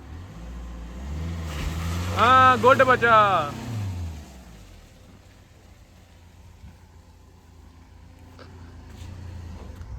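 A tractor engine revs up hard, the roar rising and falling, then settles to a low idle rumble while a voice speaks briefly over it.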